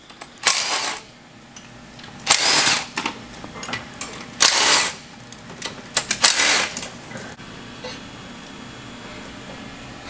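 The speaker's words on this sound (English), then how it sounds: "So let's go ahead and remove those bolts." An impact or ratchet tool on bolts of an engine bracket on a Duramax diesel gives several short, sharp bursts of whirring and clicking, separated by quiet pauses, near and fairly loud.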